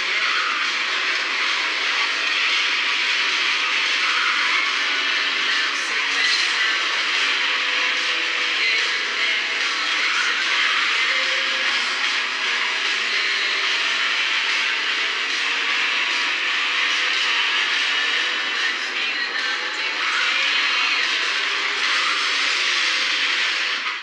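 Racing-car engines roar in the Asphalt 8 racing game played on an Honor 5X smartphone. The sound is a loud, steady, hissing drone that holds unbroken throughout, with no voices.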